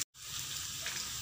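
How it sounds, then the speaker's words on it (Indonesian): Diced potatoes frying in hot oil for an Indonesian sambal of potato and beef liver, a steady loud sizzle close by after a brief moment of silence at the start. "Kita goreng, jangan sampai terlalu kering ya, yang penting udah masak aja."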